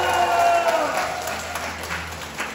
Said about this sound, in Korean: 우리 뜨거운 박수 부탁드리도록 하겠습니다